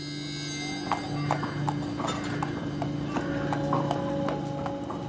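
Horse hooves clip-clopping at an unhurried walking pace, steady and moderately close, over a low continuous hum.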